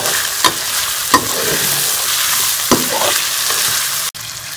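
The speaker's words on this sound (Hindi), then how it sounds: "मैं इसमें जीरा भी शामिल कर लूँगी और इसको भी चिकन के साथ फ्राई कर लेंगे।" Chicken and cumin seeds fry in a hot karahi with a steady loud sizzle, broken by a few sharp scrapes of a spoon stirring against the pan.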